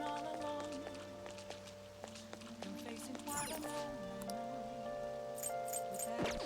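Steady rain falls in the Persona 5 video game, a soft continuous wash under looping game music and chimes, with a person talking over it now and then.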